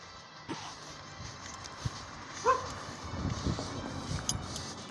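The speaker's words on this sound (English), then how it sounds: "This dog loves to troll people." A dog barks and whimpers indoors, with a few short, moderately close yips and whines scattered over a quiet, steady background.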